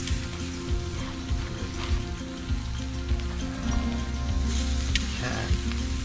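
Kangaroo steak sizzles in a hot pan, a steady crackling hiss with scattered pops and a few soft scraping touches, continuing evenly throughout.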